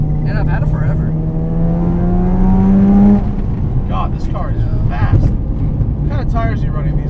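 A modified 400+ horsepower Mazda RX7 FD accelerates hard, its engine note rising steadily in pitch before a shift and then dropping back to a lower drone, with people talking over the cabin noise.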